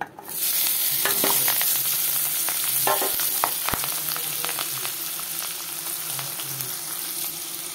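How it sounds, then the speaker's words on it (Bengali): Onions dropped into hot oil in a kadai after frying fish, starting with a sudden burst of sizzling that settles into a steady, close frying hiss with a few scraping stirs early on. "দেখো, তেলে পেঁয়াজ দিয়ে দিলাম।"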